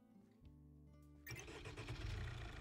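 In the Minecraft mod Farm Craft 2, a video-game tractor engine cranks and catches, then settles into a loud, rough running rumble, with no talk over it.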